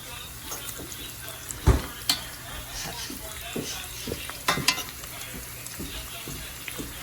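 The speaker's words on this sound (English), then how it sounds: "as soon as the onions are golden, I'm going to add the garlic, and I think the onions are golden now" Onions fry in a pan for Arabic bamia on rice, a steady soft sizzle punctuated by scattered stirring clatters and one sharp knock, close to the pan.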